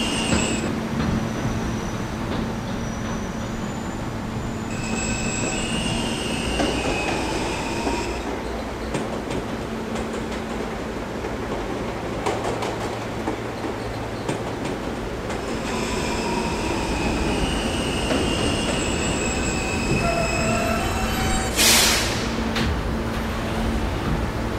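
An R160 New York subway car on the K train rides between 80th and 26th Streets, a steady loud rumble of wheels on track with clacking rail joints, sustained whining tones and a brief sharp wheel squeal near the end.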